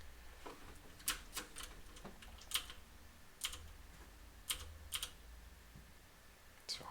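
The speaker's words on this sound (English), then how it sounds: "people definitely have commented on the sound of the keyboard that I have right now" Quiet computer keyboard typing, scattered sharp key clicks arriving in short irregular bursts against a low steady background hum.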